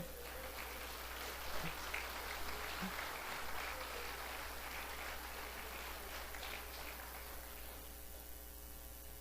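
Church congregation applauding during a sermon, a dense patter of clapping over a steady electrical hum that fades out over the last few seconds, leaving only the hum.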